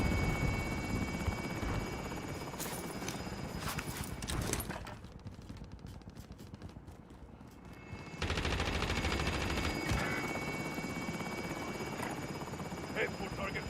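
A video game helicopter beats loudly and continuously with a dense rotor roar, easing briefly in the middle before surging back, with scattered gunfire bursts and voices over it.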